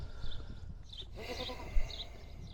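A goat gives one wavering bleat from a short distance on a small farm, with quieter rustling around it and no talk.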